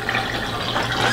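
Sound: washing machine wash water draining out

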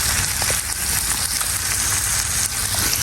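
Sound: fish frying in a pan

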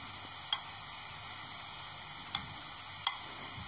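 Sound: onions and paneer sizzling as they fry in oil

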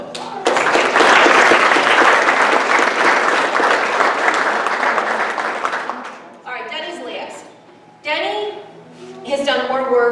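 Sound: audience applause

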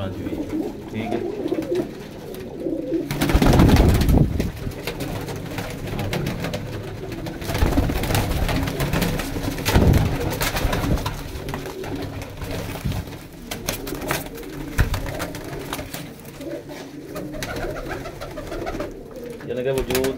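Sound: pigeons cooing

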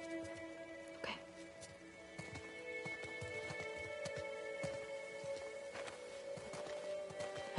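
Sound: horses in The Last of Us Part II video game

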